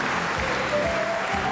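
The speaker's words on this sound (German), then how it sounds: "Applaus und Auftritt für unsere Schiedsrichter." Studio audience applause for karate referees walking on at a live German TV game show, a steady broadband clapping wash filling the short moment with no voices over it.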